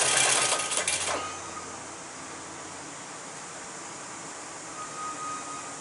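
A Singer 31-15 sewing machine driven by a servo motor runs in a fast rattling burst at first, then settles into a quieter steady whir.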